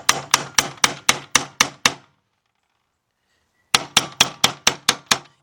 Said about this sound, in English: take your hammer and you're going to knock that down